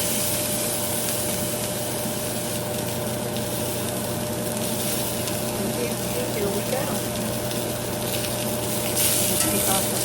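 Tuna steak searing in a very hot pan, a steady loud broadband sizzle holding constant throughout with faint clattering and possible low voices underneath.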